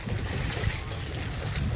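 Splashing through flood water in Bangladesh while walking under an umbrella, a continuous rushing, sloshing wash of water with some wind noise on the microphone, no clear talking.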